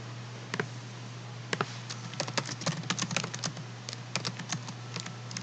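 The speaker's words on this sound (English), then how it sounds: "you can cut this out, all this typing stuff" Typing on a computer keyboard: scattered key clicks build into a quick, uneven burst of tapping, quiet and close, with no voices.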